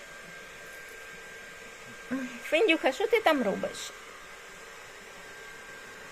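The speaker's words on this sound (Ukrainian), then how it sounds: "Мама сушиться феном і в нас трішки шумно." A hair dryer runs as a steady, moderately loud whir through a home room, while someone talks briefly to a small child over it.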